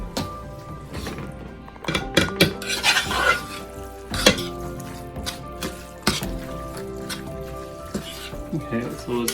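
A spoon stirring a pulled pork mixture in a pot, with repeated scraping and knocking against the metal and wet squelching under a soft sizzle, while people talk nearby.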